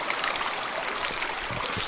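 A stream of water floods across a hiking trail and a bridge in a forest along the Carretera Austral, rushing steadily and close by with a broad, continuous wash and no voices.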